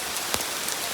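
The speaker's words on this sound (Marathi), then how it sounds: "पाऊस पडतोय." Rain falls steadily outdoors during a monsoon trek to a hill fort, a dense hiss of drops hitting surfaces, with a couple of slightly louder nearby splashes.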